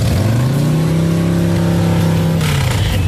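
A motorcycle engine revs loudly and close by, its pitch climbing and holding in a sustained whine before dropping off, with a brief burst of noise near the end.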